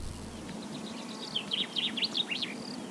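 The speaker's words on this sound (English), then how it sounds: "there are happy bird sounds playing because sometimes I reach my wit's end with frustration" Cheerful birdsong plays as ambient sound in a VR puzzle video game: a quick run of bright chirps and tweets over a low, steady background hum, fairly soft with no talking.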